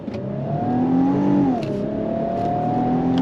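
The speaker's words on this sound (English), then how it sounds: "I have it in sport mode, and we're gonna go on throttle from a dead stop" A 2026 Infiniti QX80 Autograph with a twin-turbo V6 pulls away from a dead stop in sport mode, its engine note climbing steadily in pitch, dipping briefly at a shift, then rising again, heard from inside the cabin.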